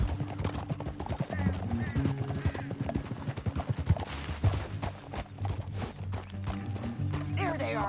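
Hoofbeats from a horse in Red Dead Redemption 2 clatter steadily and close throughout, with a faint neigh and some voice-like sound mixed over the galloping rhythm.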